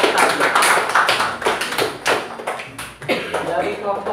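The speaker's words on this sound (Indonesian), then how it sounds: "Kita kasih tepuk tangan ya untuk kelompok tadi" Classroom applause for a student group, a dense patter of hand claps from many students nearby, continuing steadily for several seconds.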